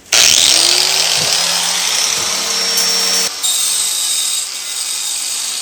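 A power tool, likely a grinder, cuts through the handlebars fitted to a 28kW go-kart, running loud and steady with a rising whine and a brief dip midway, no talking.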